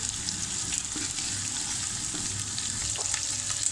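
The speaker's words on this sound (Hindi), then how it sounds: "चिकन को लहसुन अदरक के पेस्ट के अंदर थोड़ा सा पकाएंगे हम" Chicken wings and pieces sizzle in garlic-ginger paste for degi haleem, a steady close frying hiss with faint stirring scrapes, no voices.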